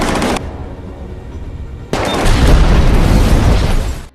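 Sustained automatic gunfire from a mafia shootout in an action film, a brief burst, then a lull of rumbling ambience before a louder, dense barrage of rapid shots and booms that runs several seconds and cuts off abruptly.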